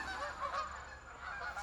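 Geese honk faintly outdoors in the background, a few soft calls over low steady noise, with no one talking.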